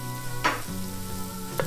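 Garlic and bay leaf sizzle steadily in a hot pan, a close, constant frying crackle with a low hum beneath it and two brief stirring scrapes, and no one speaking.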